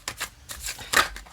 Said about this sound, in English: I'm still working on this overhand shuffle.